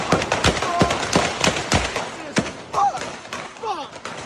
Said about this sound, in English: So you hear overlapping gunfire.